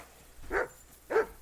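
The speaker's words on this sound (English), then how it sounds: "let's go get this dog to stop barking." A dog in the medieval game Kingdom Come Deliverance 2 gives two short muffled barks about half a second apart, moderately distant, over faint background ambience.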